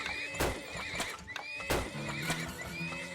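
Horses in the video game Turmoil neigh and whinny several times in quick succession, with clip-clopping hooves beneath and steady game ambience. No one speaks.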